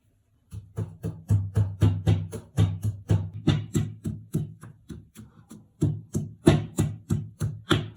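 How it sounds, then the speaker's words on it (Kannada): Ginger, garlic and onion pounded in a home kitchen with a steady, loud rhythm of dull thuds, around two or three blows per second, close up and continuing without speech. "ಒಂದು ಅರ್ಧ ಈರುಳ್ಳಿ ಕಟ್ ಮಾಡಿ ಇಟ್ಕೊಂಡಿದ್ದಲ್ಲ ಅದನ್ನು ಇದಕ್ಕೆ ಹಾಕೊಂಡು ಜಜ್ಜ್ ಹಾಕ್ತೀನಿ"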